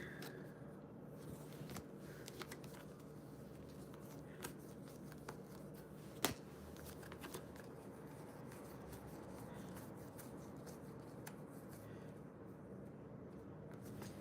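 Tarot cards being shuffled and handled at close range, quiet soft riffling and sliding with scattered light taps and one sharp snap midway, no speech.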